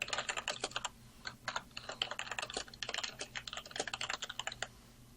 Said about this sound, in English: you can test it directly by typing in stuff